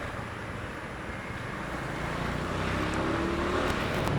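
A motorbike ridden to the office, its engine and road noise forming a steady broadband rumble that swells slightly louder as it accelerates, close and continuous with no talk.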